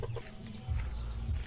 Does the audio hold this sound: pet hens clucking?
yes